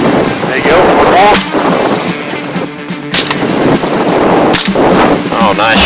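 Rifle shots fired from a helicopter over a Texas ranch, several sharp cracks spaced a second or two apart over constant rotor and wind roar, with voices talking in between.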